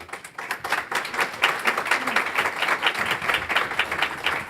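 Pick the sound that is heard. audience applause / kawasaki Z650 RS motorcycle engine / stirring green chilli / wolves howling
audience applause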